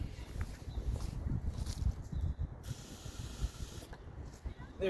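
A steady, close aerosol hiss of starting fluid sprayed into a lawn mower engine continues for several seconds, with faint clicks and rustling underneath.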